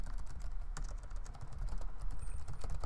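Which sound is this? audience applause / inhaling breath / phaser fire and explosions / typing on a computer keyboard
typing on a computer keyboard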